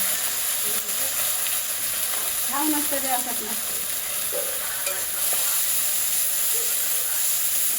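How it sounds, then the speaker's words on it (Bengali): Chopped onions and ground spice paste frying in a pan for a Bengali fish dish, a steady close sizzle with stirring scrapes, while a voice speaks briefly partway through. "মশলাগুলো দিয়ে দেব দিয়ে ভালো করে কষে নেব"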